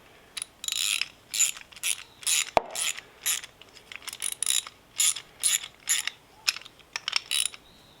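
A ratchet wrench with a 13 mm (half-inch) socket cranks down a self-locking nylon-insert nut on a Toro Timemaster mower's blade belt drive, giving close, repeated bursts of sharp clicking in short strokes with brief pauses and no talk.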